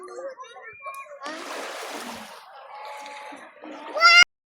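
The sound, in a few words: children splashing while bathing in the sea at a beach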